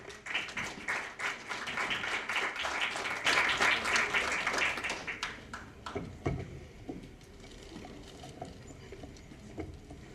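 Applause welcoming a speaker at an Andean virtual education forum, loud and dense clapping for about five seconds before thinning into scattered claps and fading to quiet.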